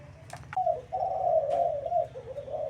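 A decoy dove gives a drawn-out, resonant coo close by, preceded by a few short clicks, over a low steady background hum.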